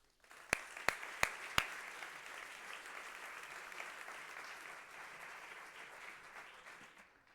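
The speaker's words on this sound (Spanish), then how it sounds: "a Marc Simón, para quien también pido otro fuerte aplauso." Audience in an auditorium at an institutional welcome session breaking into sustained applause, a few sharp close claps at the start, then an even, moderately quiet wash of clapping that fades near the end.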